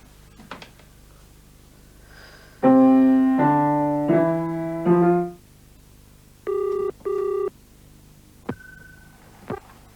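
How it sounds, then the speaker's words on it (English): A telephone rings indoors in two short, even bursts of a double ring, following a run of sustained piano notes, with quiet room tone and no talk. "You mustn't keep ringing me, John."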